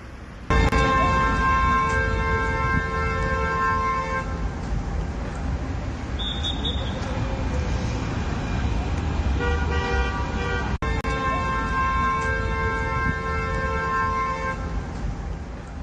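Continuous car horns honking in a gridlocked traffic jam in Chișinău during a citywide blackout, several loud overlapping toots with long sustained blasts over steady road noise throughout.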